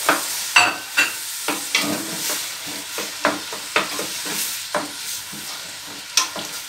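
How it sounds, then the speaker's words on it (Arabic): Vermicelli, onion and rice fry in butter and oil with a soft sizzle, while a spoon scrapes and clicks against the pan in repeated close strokes. No voices. "غادي نديرو هاد الفلافل والبصله والروز يتشحرو في داك الزبده والزيت."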